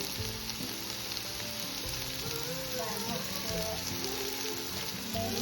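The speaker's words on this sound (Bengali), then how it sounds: "এই যে পেঁয়াজটা এখন লাল লাল করে ভাজা হয়ে গেছে এখন আমি এখানে একে একে মশলাগুলো অ্যাড করে দেবো" Onions browned in oil with turmeric and chili powder sizzle and crackle steadily in a pan, close and moderately quiet, with occasional stirring and no talking.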